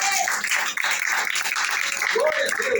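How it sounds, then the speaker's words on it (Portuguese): A church congregation claps during a worship service, a dense, steady patter of many hands filling the room, with voices and singing mixed in underneath. "Levante a mão e aplauda Jesus de Nazaré."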